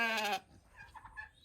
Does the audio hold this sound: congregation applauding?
no